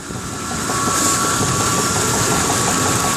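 A truck engine idles with a suspected knock, giving a loud, steady, close rumble and drone that holds evenly throughout with no voices.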